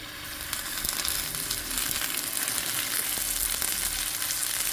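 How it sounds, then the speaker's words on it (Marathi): Sea bream pieces sizzle and fry in a hot pan, a dense, steady crackle that stays close and loud throughout with no voices. "आतां घालता हांव नुस्तें पळय गेलो एक कायलीचेर स्ट्रेट"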